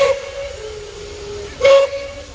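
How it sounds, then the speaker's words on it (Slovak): A MÁV 424 class steam locomotive, nicknamed Bivaly, blows its steam whistle at a locomotive show in Bratislava: one long steady tone under a constant hiss of steam, then a second louder, brighter burst near the end. "Minimálne kvôli tej píšťale na ňo nezabudneme."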